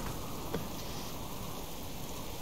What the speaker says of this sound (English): It's been raining for hours.